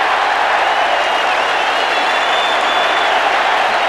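Dense, steady roar of a big football crowd cheering at a 1989 State of Origin match between Victoria and South Australia, a continuous wash of voices and applause that stays loud and unbroken throughout.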